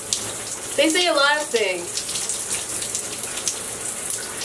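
Water runs steadily from a tap during hair washing, a loud continuous splashing hiss with someone briefly talking over it.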